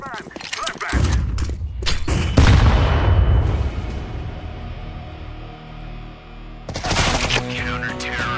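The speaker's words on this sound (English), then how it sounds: "Throwing a flashbang! Flashbang!" In Counter-Strike, a flashbang grenade bursts with a loud boom that rings and fades over several seconds, framed by rapid cracks of gunfire before and after, with a voice calling out during the fight.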